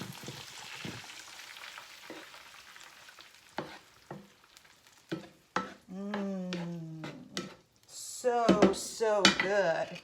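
Tomatoes from a jar go into a pan of sautéed sausage, setting off a soft sizzle with scraping stirs and clinks of a utensil against the pan, while a person talks over it.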